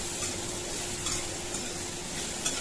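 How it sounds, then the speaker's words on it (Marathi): Sliced bottle gourd stir-fries in hot oil, a soft continuous sizzle with light stirring and faint clinks of a utensil against the pan. "दुधीचं काप केलेलं, ते पण चांगलं तेलातच परतून घ्यायचं"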